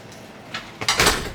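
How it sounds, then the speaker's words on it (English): A hotel room door at a five-star luxury resort swings shut, a faint creak followed by a nearby thud and latch clunk in a quiet room. "I'll close the door."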